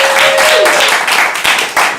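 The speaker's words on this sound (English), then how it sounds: "Let's all give him a big round of applause." A live party audience breaks into a big round of applause, loud sustained clapping from many hands close by, steady throughout with a few individual claps standing out.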